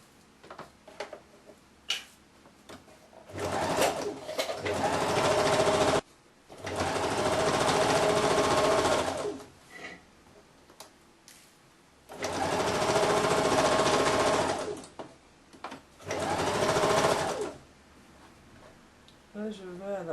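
A sewing machine stitches the hem of a women's shirt with a Peter Pan collar, running in four loud bursts of a few seconds each, separated by quieter pauses with handling noise.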